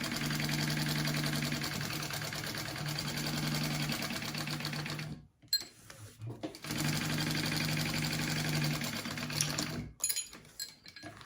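Sewing machine basting Shamballa bag pieces together, running steadily in two long bursts separated by a brief pause, with a near, continuous mechanical whir and stitching rhythm.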